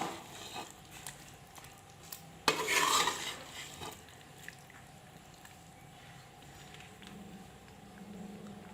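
Chicken korma is stirred with chopped coriander in a pot, a quiet soft mixing with scrapes and a brief louder clatter of the spoon against the metal, over a faint low simmer.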